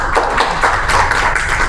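Audience at an XLSMART media update event at Novotel Lampung clapping together, a steady dense patter of hands filling the room close and loud for the whole moment, with no voices over it.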